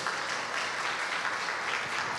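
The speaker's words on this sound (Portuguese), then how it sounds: "Dê um aplauso ao Senhor" A church congregation applauding during a Portuguese-language worship service, steady, dense clapping from a large crowd throughout, fairly close and even in loudness.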